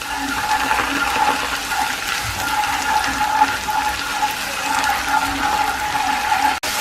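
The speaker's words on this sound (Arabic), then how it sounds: "ندير له حوالي مغرفه كبيره تاع طوماطيش مصبره، نديرها تتقلى معاه مليح" Garlic and canned tomato paste frying in a pan, giving a steady, close, continuous sizzle with no voices over it.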